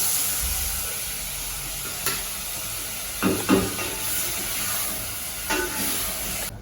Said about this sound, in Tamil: ஒரு ரெண்டு நிமிஷம் வதக்கிட்டோம் தக்காளியும் போட்டுருவோம்